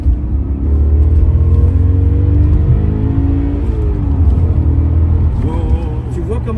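A car engine revs up through the rev range, a loud close droning rumble with harmonics sweeping upward over several seconds, then dropping and wavering near the end, with talking over it.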